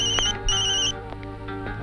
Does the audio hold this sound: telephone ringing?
yes